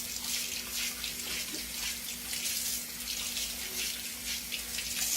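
Tap water running into a sink to soak corn on the cob, a steady splashing hiss close to the microphone, continuous and uniform with no pauses.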